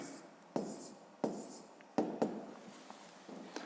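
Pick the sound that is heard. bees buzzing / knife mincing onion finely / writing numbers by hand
writing numbers by hand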